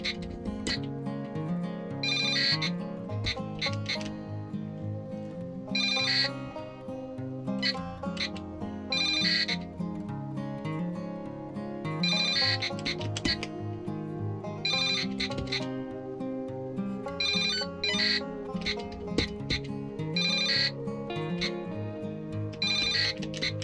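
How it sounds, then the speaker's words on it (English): Chiptune-style beeping melody with short electronic tones and bleeps from an Arduino Tetris game on a WS2812B LED matrix, playing continuously and fairly loud with no talk. "The entire gameplay is accompanied by appropriate sound effects."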